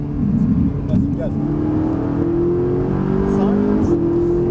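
A Ferrari 458 Italia accelerates on the Dreux race circuit, its engine note rising steadily in pitch from inside the car, loud and continuous, with a voice speaking briefly over it.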